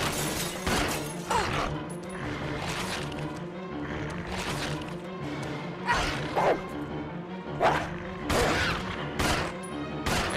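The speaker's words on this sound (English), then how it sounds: "Dogs!" Game dogs barking and snarling in Resident Evil 0 as they attack, repeated sharp barks and yips over a dense, loud soundtrack with crashing effects throughout.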